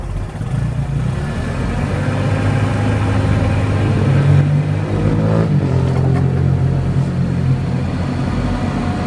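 A 2004 Cat C3000 cushion-tire forklift with a Nissan K21 engine runs loud and close, a steady mid-pitched drone that swells as it revs up and holds, then eases back slightly, with no talk over it.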